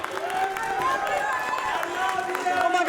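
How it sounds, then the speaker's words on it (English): Audience applause at a talent show, steady dense clapping from a crowd filling the moment, with voices mixed in underneath. "They're applauding for us."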